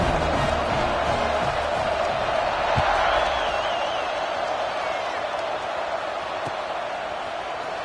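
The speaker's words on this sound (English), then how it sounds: "this crowd now ready to get behind them" A college football video game crowd roars in a broad, continuous wash of cheering and whooping, fading slightly toward the end beneath a commentator's voice.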